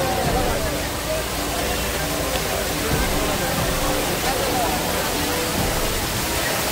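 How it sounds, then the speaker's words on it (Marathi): A waterfall behind a village roars in a constant, dense rush that stays steady and close throughout, with faint voices mixed beneath it. "माझ्या गावातला मागे धबधबा"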